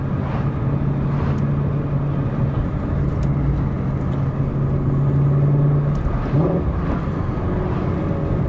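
A Ford Mustang Shelby GT350 engine drones loud and steady from inside the car while driving, a deep constant roar with a slight pitch shift near the end and no talk.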